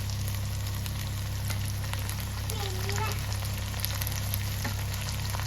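Green chillies and curry leaves sizzle and crackle in hot oil in a kitchen while pickle is made, a steady close frying hiss with small pops throughout.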